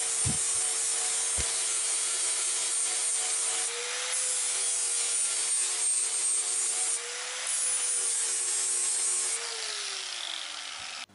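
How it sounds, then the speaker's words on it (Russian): A flap disc on a small power tool grinds a silver keychain, a steady whining drone with shifting pitch and a gritty abrasive rasp running continuously for about eleven seconds, close and loud. "я первый раз в жизни обрабатываю серебро лепестковым кругом"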